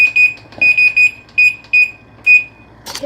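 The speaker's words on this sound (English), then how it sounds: "Just set the timer to 10 minutes." A kitchen oven timer chirps in a string of short, bright, high-pitched beeps in uneven groups while being set to ten minutes, close and loud, ending with a brief clatter.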